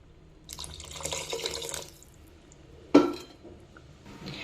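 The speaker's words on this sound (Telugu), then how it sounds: "నేను ఒక 300 ml అయితే వాటర్ వేసుకుంటున్నానండి" Water is poured from a vessel into a pan of beans masala curry, a brief splashing pour near the start followed by a sharp clink and a softer splash, with no talking.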